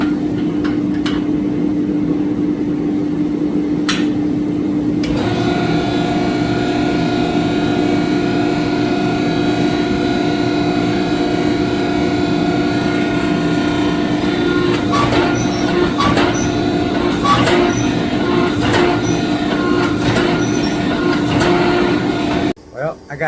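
A hydraulic press hums loudly and steadily in a workshop while a steel garden shovel is forged, joined midway by a higher whine and several faint metallic clicks before it cuts off abruptly.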